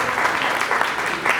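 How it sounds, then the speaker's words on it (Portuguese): Audience applause for a colleague at a children's ministry seminar in a church setting: a steady, dense wash of many hands clapping, sustained and fairly loud throughout without pause. "Uma salva de palmas para o nosso colega."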